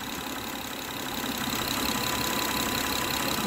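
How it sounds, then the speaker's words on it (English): A Honda Accord engine idles after a broken timing belt and bent valves were repaired, giving a steady, even mechanical hum and whir at moderate level with no voices. "So it runs normal now. It's idling better. It has a little pop."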